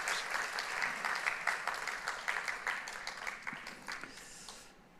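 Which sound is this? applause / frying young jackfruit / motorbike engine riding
applause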